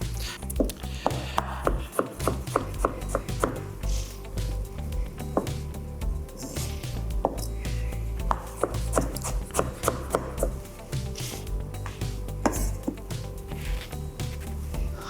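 A knife cuts ripe mango flesh away from the seed, giving a run of close, irregular soft cuts, scrapes and wet squishes with occasional sharper knocks on a board.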